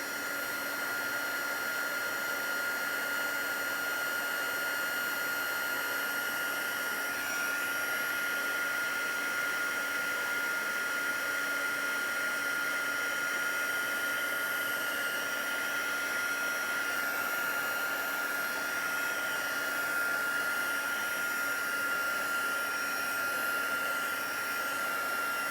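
An embossing heat gun blowing over a stamped card, a constant whooshing blower hum with a steady high whine, close and unbroken for the whole stretch, with no talking.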